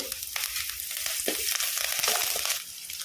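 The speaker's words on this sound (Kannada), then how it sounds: "ಎಣ್ಣೆಗೆ ಒಂದು ಹತ್ತೆ ಸಳಷ್ಟು ಬೆಳ್ಳುಳ್ಳಿಯನ್ನು ಗುದ್ದಿ ಹಾಕ್ತಾ ಇದ್ದೇನೆ ಹಾಗೆ ಒಂದು ಎರಡು ಗೆಲ್ಲು ಕರಿಬೇವು" Crushed garlic and curry leaves hit hot oil for a chicken curry, giving a close, bright, continuous sizzle with a few spatters and stirring clinks over about three seconds.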